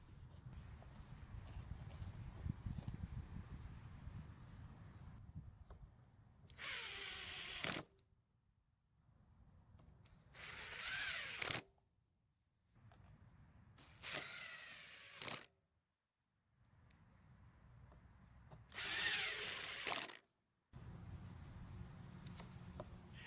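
Screws being driven back into the filter cover of a Yard Machine walk-behind lawn mower, heard as four separate bursts of mechanical ratcheting and scraping, each a few seconds long, with quiet gaps between them and no speech.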